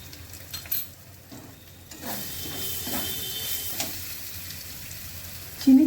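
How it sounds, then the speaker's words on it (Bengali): Butter melting into frying masala for paneer bharta gives a steady, moderate sizzle and hiss, with light stirring scrapes and a sharper clatter at the end. "বাটার দিয়ে দিলাম"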